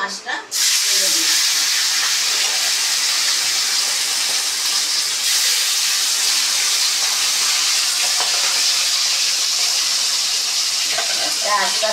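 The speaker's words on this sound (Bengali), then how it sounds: "এবার আমি মাছটা তেলে দিচ্ছি।" Pomfret fish hits hot oil in a kadai and sizzles loudly, a steady bright frying hiss that starts abruptly after a brief quiet moment and continues close up.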